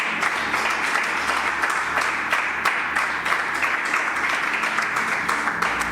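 A church congregation applauds in one continuous burst, a dense, steady wash of many hands clapping throughout with little variation in loudness.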